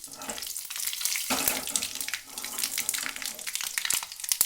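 Cumin seeds and three dried red chillies hit hot oil, giving a steady, close, hissing sizzle with crackly bursts that rise and fall throughout.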